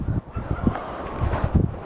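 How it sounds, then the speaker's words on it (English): Chickens in a garden area give low, soft clucks and murmurs at close range, a short run of irregular muttering calls over steady outdoor background noise. "Here's a chicken."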